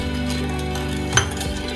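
A spoon stirs lemon juice with sugar in a steel vessel, giving a brief run of scraping and a single sharp clink against the side, close and fairly loud with no voices.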